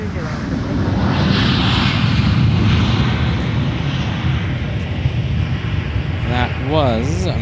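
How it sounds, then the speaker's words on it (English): American Airlines flight arriving from Chicago O'Hare at Minneapolis–St. Paul airport: a loud, sustained jet engine roar close by throughout, with brief chirping tones near the end. "That was American 2295, arriving from Chicago O'Hare."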